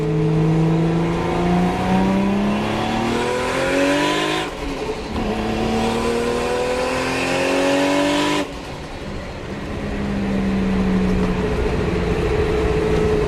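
A Nissan Skyline GTR R32 accelerates hard on a straightaway, its engine note rising steadily through the gears with two clear shift breaks, loud and close from inside the car.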